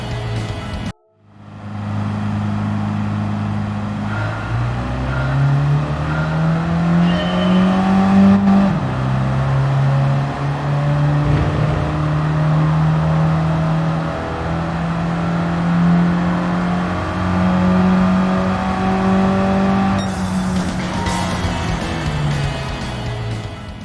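A race car in Gran Turismo 7 accelerates at full throttle on a licence test track, its engine rising in pitch through gear shifts with a brief cut near the start, loud and continuous.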